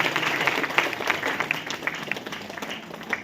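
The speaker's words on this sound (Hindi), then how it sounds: "इनके लिए भी जोरदार ताली बजा दीजिए।" Audience applause at a DXN success-story event, a steady wash of many hands clapping that runs throughout at moderate loudness with no speech over it.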